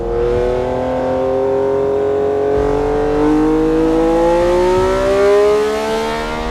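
A Matra V12 engine revs steadily and loudly on its own, its harmonic tones climbing and swelling in pitch over several seconds with no voices present.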